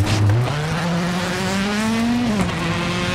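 Rally car engine revving hard in WRC 7 as the car slides, a strained, rising-and-falling engine note with tyre noise underneath, close and continuous.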